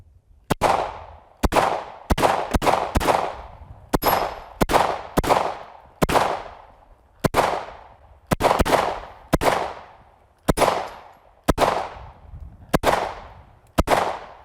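Seventeen loud, sharp gunshots ring out one after another in a realistic-graphics video game, each crack followed by a short decaying echo, spaced unevenly and heard alone without talk.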